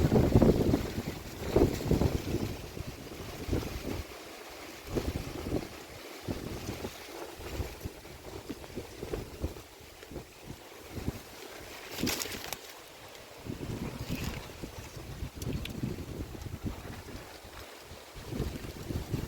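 Wind buffets the microphone outdoors in a grape vineyard in rough, gusting rumbles that rise and fall throughout, loud low-end noise with no speech.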